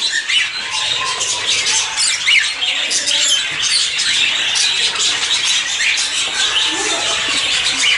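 A dense chorus of birds squawks and chirps nonstop inside an aviary, loud and close, with many overlapping shrill calls filling the whole stretch.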